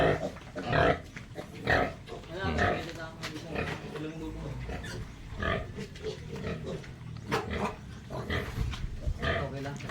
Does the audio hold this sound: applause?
no